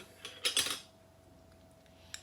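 Metal spoon scraping and clinking against a glass jar of diced beetroot, a short cluster of bright scoops near the start, then near silence and one small final clink.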